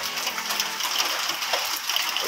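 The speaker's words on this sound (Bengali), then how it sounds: "প্রচণ্ড জোরে বৃষ্টি হচ্ছে।" Heavy rain pours down in a steady, dense hiss of water with occasional splashes, continuous and loud with no voices.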